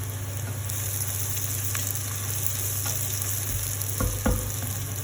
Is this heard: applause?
no